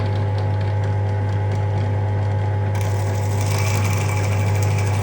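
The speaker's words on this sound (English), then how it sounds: "And back to drilling." A small motorized drill whirs steadily with a constant mechanical hum, then grinds harsher as it bites into opal, with hissing from water underneath.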